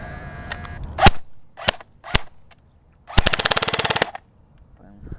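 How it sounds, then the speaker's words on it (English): Airsoft gun shots fired at around 300 FPS strike an invisible shield: several sharp single cracks, then a rapid full-auto burst of about a second, loud and close, with a faint voice near the start. "Let's see how many shots it takes to poke a hole into this at 300 and around"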